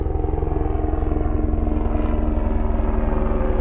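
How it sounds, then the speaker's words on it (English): A helicopter passes overhead with a loud, steady rotor thump that dominates the scene, heard while riding an electric unicycle on a closed road. "Another helicopter coming."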